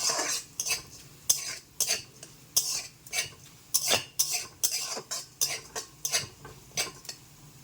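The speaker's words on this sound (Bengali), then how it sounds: "আমি এখানে ডালটাকে ভালো করে ভাজা করে নিচ্ছি" Red lentils are fried and stirred in a pan, heard as a steady run of sharp metallic spatula clinks and scrapes against the pan, close and fairly quiet, with faint sizzling beneath.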